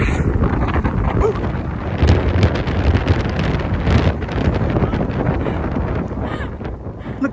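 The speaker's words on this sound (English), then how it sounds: "I don't know how much of this you can get to hear, because that wind is loud." Strong wind buffets the microphone on an Appalachian Trail mountain hike, a loud continuous roaring rumble with gusty surges and no clear speech over it.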